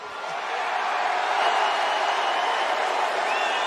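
A large arena crowd at a Conor McGregor versus Dustin Poirier fight booing, a steady, broad roar of massed voices filling the space evenly and loudly throughout.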